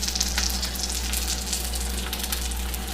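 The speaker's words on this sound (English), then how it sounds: "I've got some butter in the skillet. I'm going to put these pierogies in here" Pierogies brown in butter in a skillet with a continuous bright sizzle and crackle, close and even throughout, steady under a low background hum with no speech.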